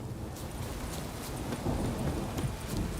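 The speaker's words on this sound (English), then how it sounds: "we're already wet because it's raining" Steady rain pours down in the Witcher 3 video game world, a dense continuous hiss with soft low rumbling and faint clip-clopping underneath, heard alone without voices.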